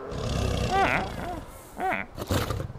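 A cave lion in the stone-age game Far Cry Primal gives a few short roaring growls, loud and close, with someone talking intermittently over the calls.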